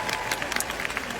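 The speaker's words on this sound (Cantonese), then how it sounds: "我喺度俾啲掌聲啊，張家輝先生啊" A concert crowd greets a singer with brief, busy clapping and some cheering, the hand claps crisp and close, with a voice faintly mixed in.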